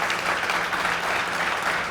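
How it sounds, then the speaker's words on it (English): A conference audience applauds its speakers with steady, dense clapping that fills the room at an even level throughout, with no voices on top. "give us the huge round of applause for these speakers"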